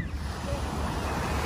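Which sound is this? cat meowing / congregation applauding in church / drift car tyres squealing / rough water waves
rough water waves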